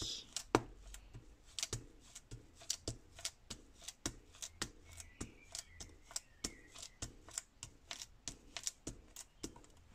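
Ink is dabbed generously over paper through a stencil in a steady run of quick, soft, close-up taps, repeated evenly for several seconds over a quiet background.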